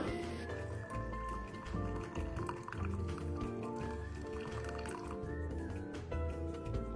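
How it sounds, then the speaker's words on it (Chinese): Hot water boiled with pandan leaves pours steadily from a pot into a measuring container, a continuous close splashing trickle lasting several seconds. "水开后，倒出300毫升。"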